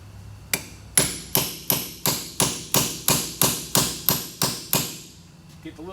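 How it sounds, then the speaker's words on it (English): Hammer blows strike a punch to knock the staking divot out of a rear axle nut on a 2001-2005 Honda Civic, about a dozen sharp metallic hits in a steady, evenly spaced rhythm, loud and close with no talking. "Get the little divot knocked out of the center of it."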